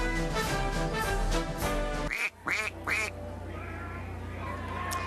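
A duck lets out a few loud, nasal quacks in a quick cluster after a stretch of music on a news program, then steady low background noise.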